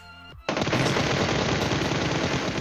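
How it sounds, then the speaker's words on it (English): Sustained automatic gunfire from the battle royale video game PUBG Mobile bursts in after a short lead-in and continues as a dense, loud, unbroken rattle. "Now this guy here is shooting, and he has no idea."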